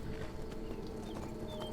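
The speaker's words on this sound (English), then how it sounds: "I'm gonna steal this horse" Horse hooves clip-clopping in Skyrim, a steady patter of footfalls over a dense game soundscape with a low hum and faint birdlike chirps, no voices.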